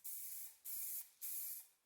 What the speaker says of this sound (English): read the instructions on the spray can and I will do